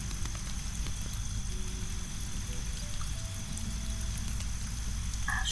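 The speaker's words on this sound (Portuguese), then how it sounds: "A chuva continua caindo," Soft, steady rain falls continuously around a cabin in a rainforest at night, a gentle even patter with low rumbling background texture and no voices.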